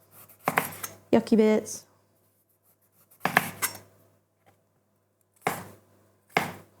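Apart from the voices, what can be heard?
knife chopping a vegetable on a board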